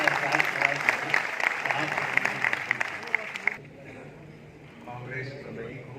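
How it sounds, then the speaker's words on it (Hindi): Audience applause fills an auditorium during an all-India mushaira poetry recital at Aiwan-e-Ghalib, a dense burst of clapping for about three and a half seconds that stops abruptly, leaving a quieter room with faint voices. "एक बार तालियां बजाकर इस बात का एहसास कराया"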